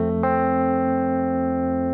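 Electric guitar arpeggiates a full chord from bottom string to top in the verse of a song, one soft onset then a bright attack that rings out and sustains alone.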